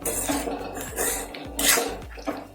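Onions being sautéed in a pan for an onion chutney, with a spatula clinking and scraping against the metal in a steady, fairly loud rhythm.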